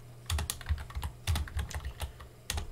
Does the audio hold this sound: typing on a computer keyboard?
yes